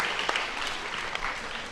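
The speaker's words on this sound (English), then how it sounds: "please give a big round of applause" A crowd claps steadily, a dense wash of applause from many hands, fairly loud and continuous throughout.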